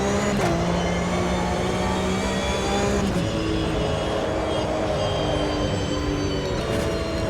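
Porsche engine in the racing game Assetto Corsa Evo, a loud, steady engine drone with sustained harmonic tones that shift slightly as revs change, heard alone without talk.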